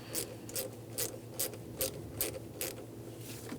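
A ratchet with a 1/4 inch socket tightens bolts on a 2003-2011 Honda Element throttle position sensor, giving a steady, rapid clicking of the pawl in even bursts, close up and alone.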